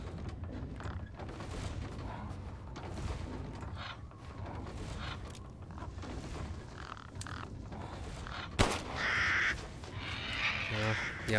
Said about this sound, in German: Wo sind denn die Raben? Ich sehe sie nicht.